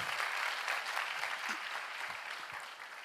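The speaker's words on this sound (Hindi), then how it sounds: "ताली बनती है ना," A seminar audience applauds briefly after the presenter's prompt, giving a short, fairly quiet patter of many hands clapping for about three seconds, with a few low thumps mixed in.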